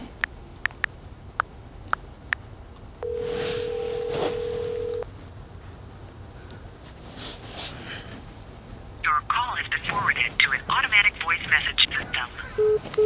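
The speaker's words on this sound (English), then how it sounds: "All right, I'm finna call him." A phone call placed and left ringing out unanswered: a steady ring tone holds for about two seconds, then a string of short electronic beeps and warbling tones runs near the end, with faint background noise.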